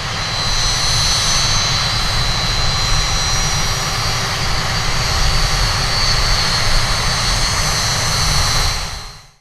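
Red Arrows jets with Rolls-Royce engines at takeoff power roar continuously and loudly at an air show at Southend, a steady powerful jet blast that cuts off at the end.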